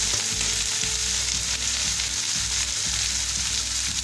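Egg masala mixture sizzles loudly and steadily in a pan while being stirred, with a dense hiss over a low rumbling undertone and occasional dull scrapes.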